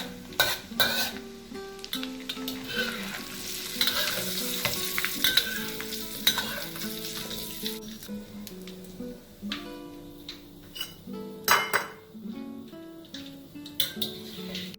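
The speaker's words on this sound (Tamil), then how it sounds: "இந்த இக்கன் பிலிஸ் முதல்ல பொரிக்கணும்." Small dried anchovies sizzle and crackle in hot oil, with occasional stirring clinks of a utensil against the pan; frying pops come in irregular bursts.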